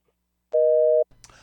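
After a phone-in caller on a morning radio show hangs up, a single loud, steady electronic tone drones for about half a second, then cuts off, and a voice follows.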